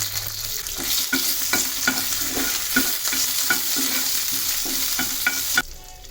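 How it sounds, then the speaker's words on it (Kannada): Mustard seeds, cumin and curry leaves splutter in hot oil, a dense continuous sizzle punctuated by regular sharp pops and stirring scrapes, close and loud, with no voices. "ಸಾಸಿವೆ ಚೆನ್ನಾಗಿ ಚಟಪಟ ಆಗಬೇಕು"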